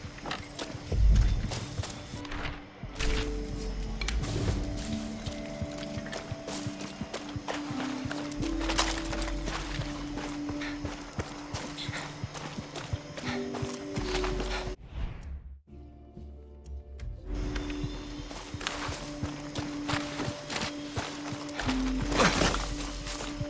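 A horse ridden in the video game Far Cry 6 clip-clops steadily throughout, with rhythmic hoofbeats over a game soundscape and a brief dropout in the middle.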